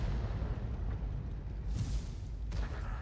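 Two muffled booms from M53/M55 self-propelled artillery in a video game, spaced under a second apart, sounding over a steady low rumble.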